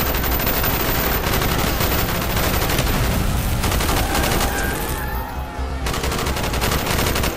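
Dense, continuous gunfire rattles through a street battle in Call of Duty Black Ops, with overlapping rapid bursts and shotgun blasts loud and close, briefly thinning before resuming at full intensity.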